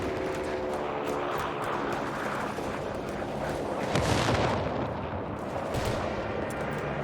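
Gunfire from a heavy machine gun and artillery in the WWII strategy game Company of Heroes 3 rattles in continuous bursts, with a louder explosive blast midway and further impacts near the end.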